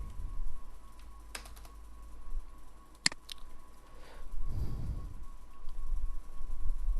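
CSS code is typed on a computer keyboard: a few sparse, sharp key clicks stand out over a steady background hum, with no voice heard.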